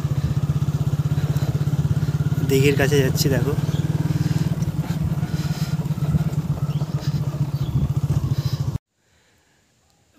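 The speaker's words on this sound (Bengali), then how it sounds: "আমি বাইক চালিয়ে যাচ্ছি এখন" A motorbike rides along a village road with a steady, throbbing engine drone close up, someone speaking briefly over it before the sound cuts to near silence.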